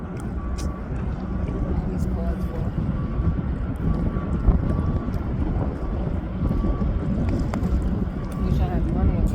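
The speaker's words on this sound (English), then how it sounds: "From New London, Connecticut, there's the boat." A ferry boat leaving New London, Connecticut, its engine giving a steady low rumble under wind buffeting the microphone, heard continuously outdoors with a faint tonal hum throughout.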